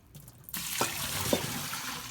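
Purple Irish moss being rinsed in a bowl of water, running water starting abruptly and splashing steadily with a few sloshing accents, close and moderately loud, no voices.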